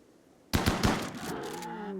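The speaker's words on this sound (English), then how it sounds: "just go shoot this Meefalo" Colonists in RimWorld open fire on a Meefalo with chain shotguns, a loud burst of three or four rapid close shots followed by a sustained ringing, droning tail.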